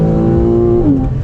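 Porsche 991.1 Carrera 911 engine revving hard while driving, a loud, tonal high-RPM wail that holds steady then drops in pitch briefly as a gear changes, heard from inside the car with no talk.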